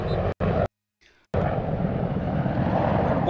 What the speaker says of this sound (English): Good afternoon as a helicopter flies overhead